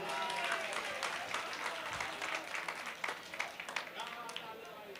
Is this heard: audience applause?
yes